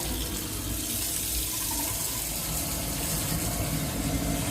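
A hot water tap runs steadily while a boiler is tested after repair, giving a constant close rushing splash over a faint low hum.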